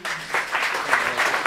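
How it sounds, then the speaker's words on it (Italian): Brief, close applause from an audience greeting performers at an evening of music, poetry and theatre about Alda Merini, a short burst of clapping swelling in a few waves. "facciamo un applauso a loro che se lo meritano"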